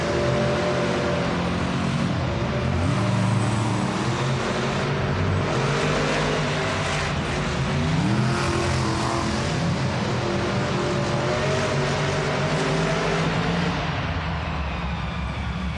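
Monster Jam trucks El Toro Loco and Earthshaker race in an indoor arena, their engines roaring loud and steady, with revving swells and pitch shifts throughout and no talk.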